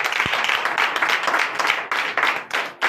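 A church congregation claps at a Sunday service in Comè, Benin, with brisk, uneven hand claps in a lively, continuous burst heard close by.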